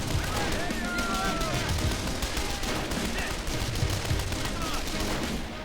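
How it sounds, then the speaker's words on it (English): German machine gun fire rattles through the trenches in the World War II strategy game Men of War: Condemned Heroes, a dense and continuous barrage of loud gunfire with other battle noise mixed in. "take out this German machine gun in these trenches"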